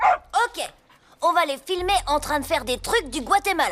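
In a cartoon, a dog barks and yips in short bursts, close by, mixed in with people talking over it.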